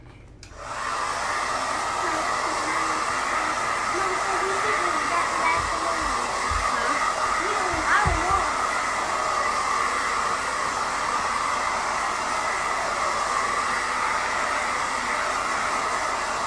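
A hair dryer blows steadily on fresh paint, switching on with a sudden whoosh and then holding a loud, constant whirring hiss close to the microphone, with a voice murmuring faintly beneath it.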